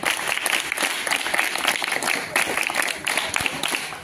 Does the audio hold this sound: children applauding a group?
yes